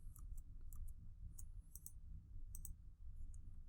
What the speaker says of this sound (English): I'm just going to hit Control-C on my keyboard, and then Control-V as in Victor.